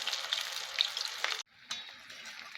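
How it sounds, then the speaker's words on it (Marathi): Cauliflower pieces frying in oil at medium heat until crisp and golden, a steady close sizzle with a brief dip before it picks up again. "मिडियम टेम्परेचरवर छान असं खरपूस होईपर्यंत त्याला फ्राय करून घ्यायचं आपल्याला"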